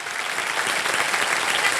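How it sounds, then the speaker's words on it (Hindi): Studio audience applause on a Hindi TV quiz show, a full, continuous round of many people clapping, close and even across the whole stretch with no talk over it. "हाथ मिला लीजिए, दर्द तालियां बज जाए इन लोगों के लिए।"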